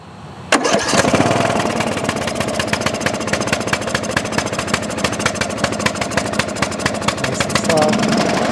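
Craftsman lawn tractor's small engine cranks and catches after sitting unused for five years, then settles into a steady, close running drone with a regular pulsing beat.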